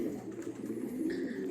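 Pigeons coo in a low, soft, continuous burble from a backyard loft, fairly close and steady throughout, with no voices.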